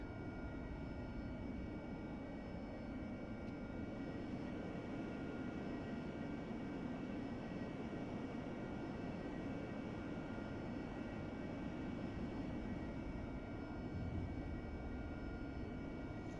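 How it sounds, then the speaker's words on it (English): Steady, even whine and rumble of an AV-8B Harrier jump jet taxiing at an airfield in the DCS flight simulator game, a continuous engine drone that holds level and close throughout. "I'm going to watch how fast we taxi as well, because the Harrier does like to flip over rather easily at higher speeds"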